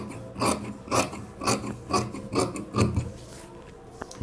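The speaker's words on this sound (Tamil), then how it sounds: "இப்போ நம்ம ஸ்லீவ் வந்து கட் பண்ணிக்கலாம்." Scissors cutting fabric for a blouse sleeve, with rhythmic, close crunching snips about twice per second over a quiet background.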